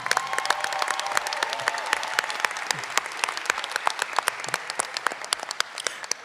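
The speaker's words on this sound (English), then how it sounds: "give them a round of applause one more time" Graduation commencement audience in a performing arts hall applauding the graduating students, a dense sustained wash of clapping with sharp individual claps standing out, steady and loud throughout.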